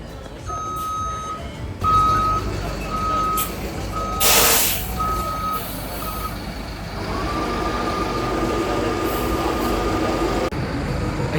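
A bus idling, its engine rumbling low and steady while a reversing alarm beeps in a regular rhythm, followed by a short hiss of air brakes and a continuing engine hum.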